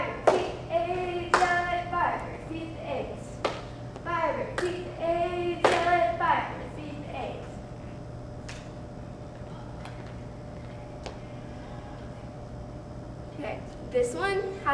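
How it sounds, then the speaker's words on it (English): A football cheer squad chants in rhythm, punctuating the words with sharp claps and leg slaps in bursts, then a long quieter gap with a steady hum before claps resume near the end. "This one has a lot of like slapping your legs and clapping."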